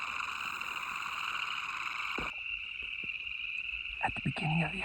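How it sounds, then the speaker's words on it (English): Boreal chorus frogs calling at a pond, a dense steady chorus of rising, comb-like trills that runs loud for about two seconds, then drops to a sparser layer of calls with a few close croaks and bursts near the end. "the chorus frogs sound like rubbing your thumb across a comb"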